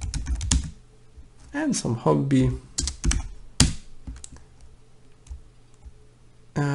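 Computer keyboard typing while a registration form is filled in, with bursts of close key clicks and pauses between them, and someone speaking at the start.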